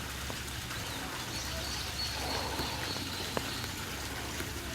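Mountain stream water flowing past a temple in Yeongdo, Busan, a steady soft wash of running water heard at moderate distance, with faint birdsong above it.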